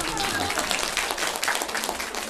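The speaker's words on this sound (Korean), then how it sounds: "정말 박수" An audience of about a hundred people at a workplace training lecture claps briefly, a dense patter of many hands lasting a couple of seconds.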